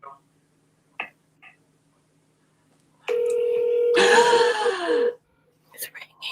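A telephone keypad being dialed, giving a steady tone and then a dense burst of key tones, with brief faint sounds before and after and no talk over it.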